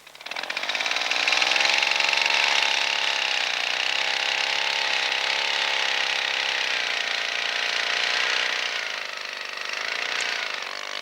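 A motor starts and settles into a loud, steady running drone with a slightly wavering pitch, continuing for about ten seconds without speech.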